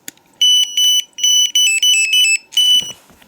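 Shrill electronic beeping from a fishing bite alarm pager in short repeated bursts, high-pitched and loud, close by, ending with a faint click and rustle.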